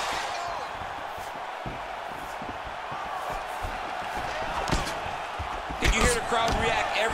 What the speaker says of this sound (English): Crowd react every time they come together because they understand.